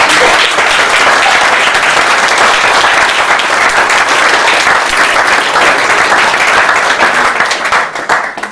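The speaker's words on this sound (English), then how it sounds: "if we could just give them, I know they're not in here, but a small round of applause" Wedding guests give a loud, dense round of applause. Continuous clapping holds steady at close range and starts to thin out at the very end.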